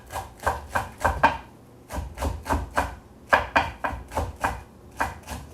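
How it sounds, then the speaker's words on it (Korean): Green onions are sliced with a knife on a cutting board in a home kitchen, giving quick bursts of crisp, close taps with short pauses between runs. "여기에다 늘 파를 좀 썰어서 주겠습니다"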